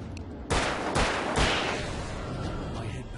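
Three loud gunshots crack out in the Alan Wake video game, evenly spaced about half a second apart, each followed by a ringing tail over a steady background rumble.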